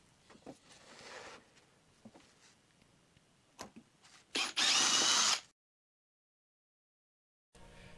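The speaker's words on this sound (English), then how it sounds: "I drilled the holes for them." A power drill bores screw holes into wood for a pontoon deck, with short bursts of whirring, one longer loud run, then silence before another brief start.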